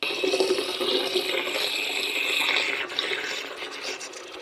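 Water running and splashing down a bathroom drain pipe during a flow test, a steady broadband rush lasting several seconds with slight surges and a dip near the end.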